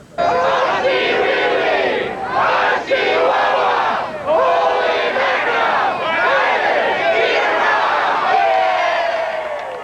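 A loud football crowd at a 1993 Canadian Football League game between the Ottawa Rough Riders and BC Lions roars and chants in rising, surging waves, close and sustained, with a brief dip between bursts.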